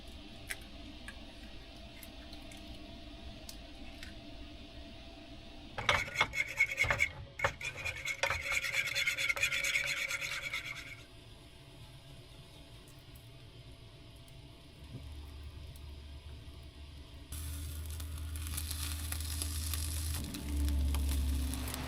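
An omelet cooks in a pan at a snowy winter campsite, with a spatula scraping and rasping in short bursts over a quiet sizzle, followed later by a steady low hiss and rumble.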